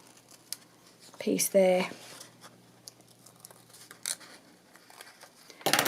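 Scissors snip a small angled cut into a paper flap on a forest journal card during book page pocket crafting, heard as a brief close crisp cut mixed with paper handling and rustling, while someone talks quietly.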